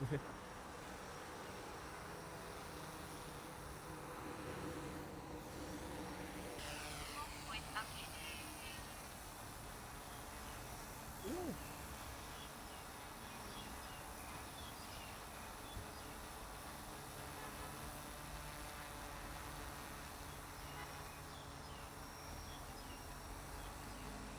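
A DJI drone in flight gives a steady, close propeller buzz with a high whine that runs without a break from start to finish, and a voice speaks faintly underneath it.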